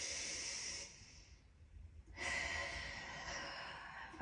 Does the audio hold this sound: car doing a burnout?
no